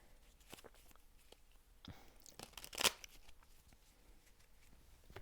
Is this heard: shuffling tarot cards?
yes